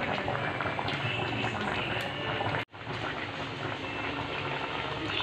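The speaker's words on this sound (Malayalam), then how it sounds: "എല്ലാം തിളച്ച് മറിയുന്നുണ്ട്." A pot of water with vegetables cooking in it bubbles at a steady, rolling boil on a home kitchen stove, a continuous close hiss and burble that cuts out briefly for an instant before resuming.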